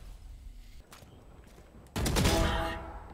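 Valorant gunfire in a ranked match, a burst of sharp, loud shots near the end following softer clicks, with little talk.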